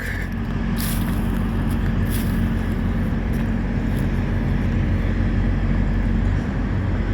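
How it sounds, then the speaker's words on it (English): A refrigeration unit on a truck trailer hauling cheese, set to 35 degrees, drones steadily and loudly with a constant low hum and broad whooshing noise, a few faint clicks above it, no one talking. "Well, you can hear the reefer running."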